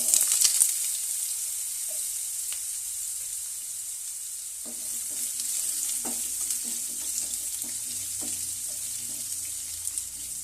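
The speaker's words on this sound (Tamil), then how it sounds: "உருளைக்கிழங்கு ஒரு 1 minute ஃப்ரை ஆகட்டும்." Potatoes fry in a pan over low flame with cumin, a gentle continuous sizzle joined by scattered scraping and stirring knocks from a utensil.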